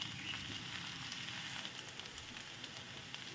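Tomato pieces frying in a pan for a dal dish, a soft, steady sizzle with faint crackles, close but quiet and continuous with no talking.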